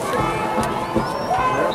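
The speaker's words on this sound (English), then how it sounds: "Crowd's going nuts." Crowd noise at a high school football game, Kennett at Lebanon, a brief, steady roar of many voices under a nearby commentator's speech.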